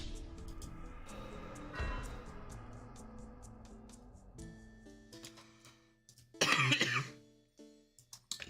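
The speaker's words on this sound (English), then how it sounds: "Do excuse my cough, y'all." A person with a lingering sickness clears their throat and coughs during a live stream, first a rough throat-clearing around the middle and then a sharper, louder cough burst near the end, over a faint game music bed.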